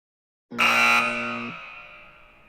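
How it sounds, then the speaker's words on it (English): A single loud quiz-game buzzer blast, a false buzz, sounds abruptly after silence, holding for about a second, then ringing out and slowly fading. "False buzzers twice there."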